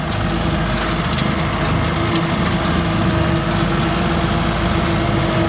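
A farm tractor engine runs steadily and loudly close by, a constant droning hum with no breaks and no talking over it.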